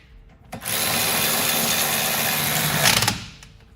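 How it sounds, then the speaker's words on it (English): One loud, close whirring burst of about two and a half seconds from a power tool driving caliper bracket bolts on a 2006–2012 Ford Fusion during rear wheel bearing work, starting abruptly and winding down at the end. "Get our bolts in for our caliper brackets. Tighten them up."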